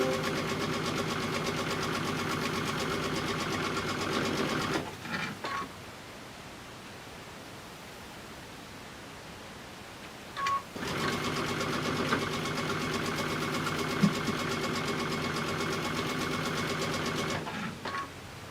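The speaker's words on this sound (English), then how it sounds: "I'm still sewing." A sewing machine stitches jelly roll quilt strips in two long steady runs of close, rhythmic whirring, broken by a quiet pause of several seconds in the middle, with no talk.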